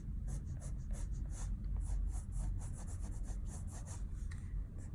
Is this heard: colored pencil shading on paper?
yes